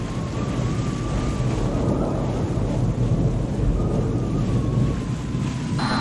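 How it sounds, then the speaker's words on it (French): A thunderstorm at sea during a transatlantic sailing race off England, with loud continuous roaring rain and wind rumbling steadily throughout, with no voices. "Nous entrons dans la tempête."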